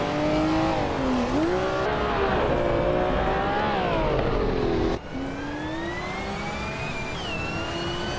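A 1979 BMW M1 race car in a racing game, its engine droning loud and steady as the revs climb, dip and climb again, with a sharp gear change partway through.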